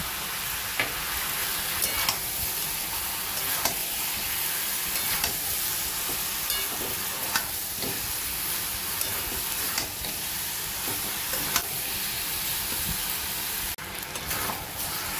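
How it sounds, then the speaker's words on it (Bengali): Onions sautéing with salt, turmeric, cumin and chilli powder in a pan for a Pakistani chicken dish, giving a steady close sizzle with scattered stirring scrapes throughout, no talking. "পেঁয়াজ আর মশলা দিয়েও 3-4 মিনিট মতো কষিয়ে নিয়েছি।"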